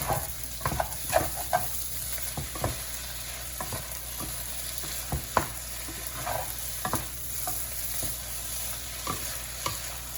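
Fried rice stir-fried in a pan, with a steady sizzle under repeated scraping and clattering strokes of the utensil against the metal at an uneven rhythm, close and moderately loud throughout with no voices.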